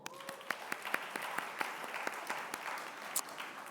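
Brief, sparse clapping from a small church congregation during announcements at a Sunday worship service, soft and somewhat distant, with a few sharper individual claps standing out.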